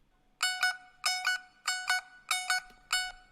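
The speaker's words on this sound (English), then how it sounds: "So the tumbi will sound like this before the drop." A plucked tumbi plays a bright, twangy single-string melody ahead of a beat drop, with quick paired plucks repeating in about five short rhythmic bursts and no voices.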